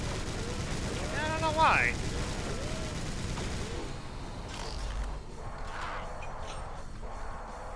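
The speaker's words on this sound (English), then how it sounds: "That guy will not stop shooting." Enemy gunfire in the video game Brutal Doom: a dense, rapid rattle of shots fills the first half, then thins, with someone talking over it.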